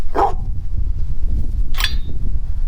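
A dog barks twice in a garage beside a Mitsubishi Lancer CE, close and loud, with a pause of over a second between the sharp barks.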